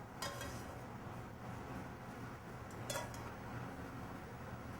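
Quiet clinks of cutlery and dishes as tortelli pasta and broth are served into bowls, with two brief sharper clatters over a low, steady background.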